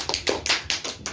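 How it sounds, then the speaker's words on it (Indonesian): Five or six crisp hand claps in a quick, steady rhythm, close and fairly loud. "Tepuk tangan dulu."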